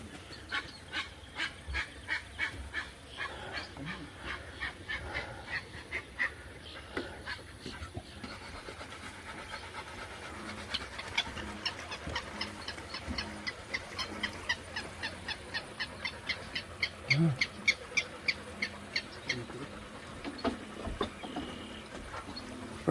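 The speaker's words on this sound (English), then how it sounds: "bird fight." Two big birds scuffle at Brazos Bend State Park, giving repeated goose-like honks and squawks over a steady outdoor background, with the bursts coming thicker and louder toward the end.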